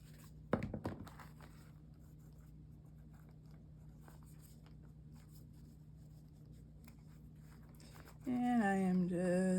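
Glue is spread across thin paper in a handmade butterfly journal with a soft, close scratching and rubbing that comes and goes. A voice starts talking near the end.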